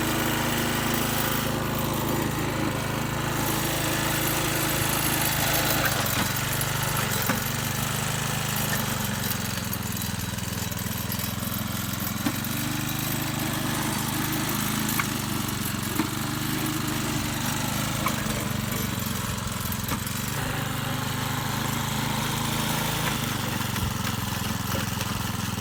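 A pull-started petrol engine, an American-made motor, runs steadily at a constant idle-like drone, loud and continuous with a slight rough, chugging texture throughout.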